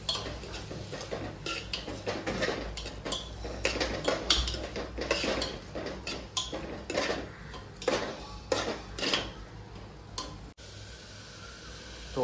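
A spoon scrapes and clinks steadily against a metal pot while ginger-garlic paste is stirred into khichdi, with a faint sizzle beneath the close, rhythmic stirring.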